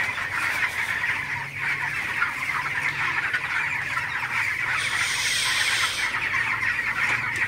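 Broiler chickens, three weeks old and over a kilogram each, cluck steadily in a hot poultry shed with large fans running, a dense continuous flock murmur with no one talking.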